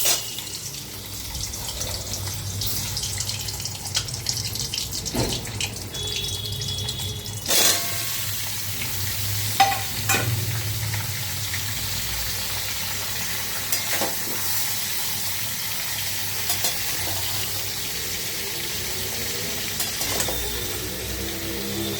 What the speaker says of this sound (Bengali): এবার এই যে মুইঠাটা এগুলো সব ছেড়ে দেবো।